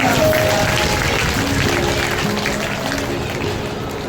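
An audience at a Hindu religious discourse on the Bhagavata breaks into clapping, loud and close, mixed with crowd murmur and tonal voices in the background.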